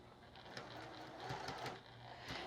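A sewing machine stitches fabric for a Kawandi-style quilt, back stitching at the start, with a steady close mechanical whir and rapid needle rhythm throughout.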